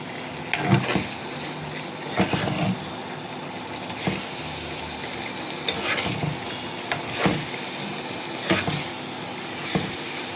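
A spoon stirs and scrapes through a bubbling fish curry with eel, yardlong beans and eggplant in a pan, giving several distinct scraping strokes over a soft, steady simmer.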